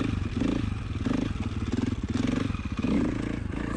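A dirt bike rides a slow lap around a homemade dirt track with reshaped lips, its engine droning steadily close by, the revs swelling and easing in a rough rhythm throughout.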